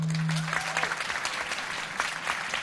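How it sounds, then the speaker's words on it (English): A loud round of applause and cheering fills a convention center hall after a panel, dense and sustained from start to finish with shouts mixed in. "if we can just get a gigantic, like so loud that everyone in the convention center can hear us, round of applause"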